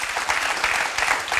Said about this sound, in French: Je vais vous demander de faire beaucoup d'applaudissements pour ces enfants